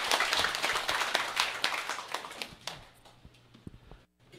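Indoor audience at a company assembly breaks into dense applause that is strong at first, thins and fades over a few seconds, and ends in scattered claps and a brief pause.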